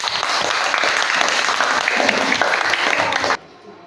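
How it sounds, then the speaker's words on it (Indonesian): A classroom of students claps for a student discussion group, a dense, even burst of applause that carries for over three seconds before cutting off abruptly. "Silakan berikan tepuk tangan untuk mereka."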